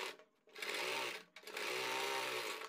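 A sewing machine stitches across a folded sleeve edge in two steady, fairly loud bursts separated by a brief pause, with no voices.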